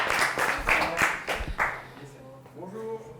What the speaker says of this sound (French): Déjà, on applaudit à Antoine.